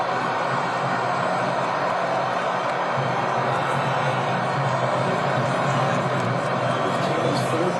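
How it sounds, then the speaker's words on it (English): Large crowd of US soccer fans gathered on the National Mall for a World Cup match against Belgium, roaring and cheering in a loud, sustained wash that swells slightly partway through, with mixed shouts under it. "Listen to the crowd come to life here"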